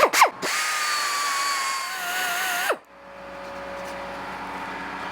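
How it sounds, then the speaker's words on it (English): A power sander whirs loudly up close, its pitch wavering, then cuts out abruptly before a quieter motor hum carries on. "more of the sanding"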